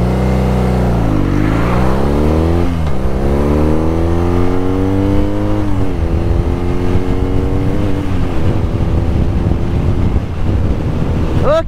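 A BMW R nineT Pure motorcycle engine revs up hard from a standstill, pitch climbing through several gear changes, loud and close with wind rushing over the microphone.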